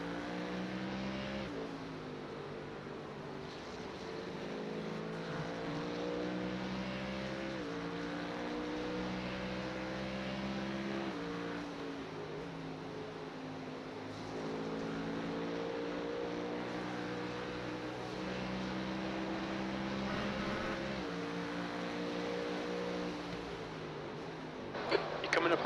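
Race car engines in the iRacing sim at the Spa 12 Hour endurance race drone loudly and steadily, their pitch rising and falling through gear changes as the car closes on slower traffic.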